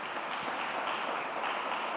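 A church congregation applauds in worship, a brief, even wash of many hands clapping at moderate distance, steady throughout with no clear individual claps.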